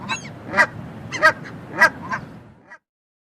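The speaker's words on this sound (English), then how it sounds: "Canada goose." A Canada goose honks five or six times, loud, close, rough calls spaced roughly half a second apart, ending with a fainter note and then silence.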